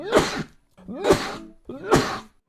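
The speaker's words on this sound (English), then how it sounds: "I'm sneezing all the time, my nose is running" Three sneezes in a row, evenly spaced and fairly loud, each a sharp burst with a short breathy lead-in.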